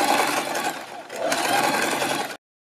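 A sewing machine stitches a fabric strip, a loud, close, continuous mechanical whir with a slight dip midway, then stops abruptly.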